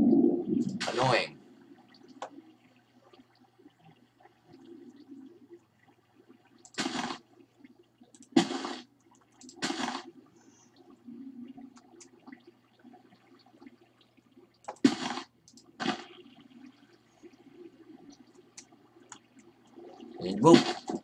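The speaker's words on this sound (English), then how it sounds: "Look at all this water." Minecraft water flows in scattered rushing bursts, a handful of short broadband surges spread across a quiet stretch with long pauses between them, close and moderately loud with no talking.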